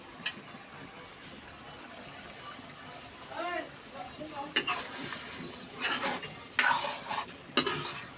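A spoon stirs marinated chicken with onion and tomato in a hot pan for masala chicken lollipop. Soft sizzling runs throughout, with scraping and clinking strokes growing louder in the second half and no talk.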